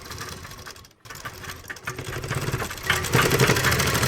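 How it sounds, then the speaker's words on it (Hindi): A sewing machine runs steadily while stitching a kurti seam, a continuous mechanical whir that builds in loudness after a brief pause near the start. "इस तरीके से यहाँ से हम एक पैर की सिलाई लगाएंगे।"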